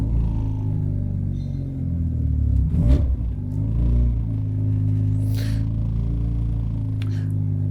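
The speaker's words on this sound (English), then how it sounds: "we've got our engine up and running" A car engine runs steadily with light throttle during idle tuning, a low continuous rumble with one brief rev swell partway through, close by and with no talking.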